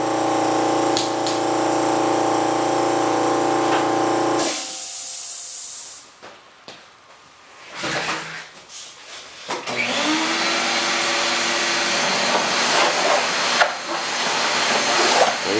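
An air compressor nozzle blows dust off a model aircraft, a loud steady hissing blast that cuts out for a few seconds and then resumes with sputtering bursts, with no talking.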